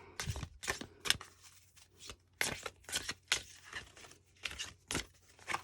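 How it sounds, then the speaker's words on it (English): Wisdom of the Cailleach oracle cards being shuffled by hand make close, irregular papery riffles and slaps, separated by short pauses, with no voices. "I would probably shuffle in this orientation."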